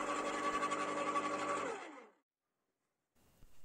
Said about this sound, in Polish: jak pracują noże tnące, a pracują bardzo wydajnie, wciągając gałązki w sposób bardzo sprawny.